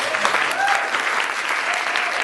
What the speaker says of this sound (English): I want to give a big clap for CHERYL